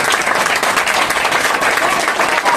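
A church congregation breaks into loud, dense applause and cheering that holds steady, with a few voices mixed into the crowd.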